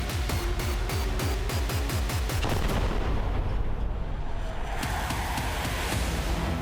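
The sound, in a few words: heavy aerial bombardment in Khan Younis, Gaza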